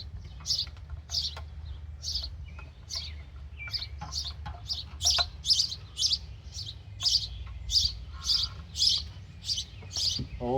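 Small birds chirp and tweet in quick repeated bursts from a nest close overhead, steady and fairly loud above a low rumbling background, with no talk.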